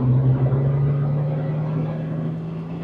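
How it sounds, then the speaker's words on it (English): Exhaust drone and burble from a Jeep TJ fitted with a Flowmaster 40 Series muffler while driving, a steady, loud low rumble that eases off slightly toward the end. "A lot of burbles on the D-cell from higher RPM."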